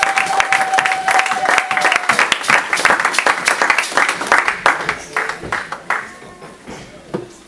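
A church congregation applauding and cheering for God during a worship service, steady dense clapping with crowd voices mixed in, close and lively throughout.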